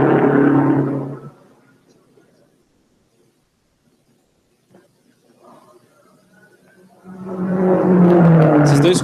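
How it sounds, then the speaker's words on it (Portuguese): 1950s race cars pass by loudly during a pit stop, one roaring past at the start, then a near-silent lull, then another car sweeping in close and loud. "Vocês estão escutando quantos carros já passaram?"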